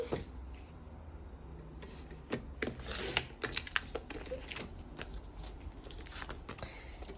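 Paper for a craft page is cut at a desk, giving soft, close snips and rustles, with a cluster of crisper cuts near the middle against a quiet background.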